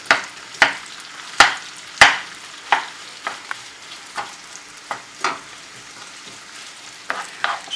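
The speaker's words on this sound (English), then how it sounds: "in there we've got 2 whole onions. Okay, we'll just cook them off." Two whole onions sizzle loudly in a hot pan, with a steady frying hiss broken by repeated sharp pops and spatters, close up and without speech.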